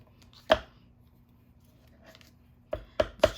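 Scissors snip out a stamped paper image, with one sharp close cut, a pause of quiet, then three quick crisp snips in a row; no one speaks.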